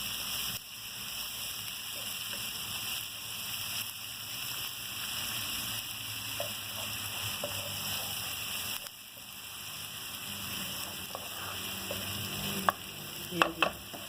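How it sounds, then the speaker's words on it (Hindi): Garlic ginger paste fries in a pan for seekh kebabs, a steady broadband sizzle running throughout with faint stirring scrapes and a few sharp clinks near the end, no voices. "लहसुन अदरक भून चुका है।"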